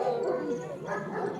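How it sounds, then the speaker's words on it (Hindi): A dog gives short yips and whimpering barks nearby during a vlog at a military training camp, two brief bursts with voices mixed in. "अरे यार लेकिन वो बड़ा प्यारा कुत्ता है"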